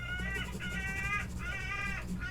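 Birds nesting in a roof squawk in repeated harsh, crow-like caws, three bursts in steady rhythm over a low background rumble, fairly close and clear.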